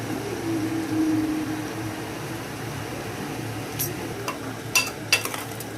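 Chilli powder and salt being stirred into about a kilo of chicken curry in a pan, with a soft, steady sizzle and a few sharp scraping clinks of the utensil near the end.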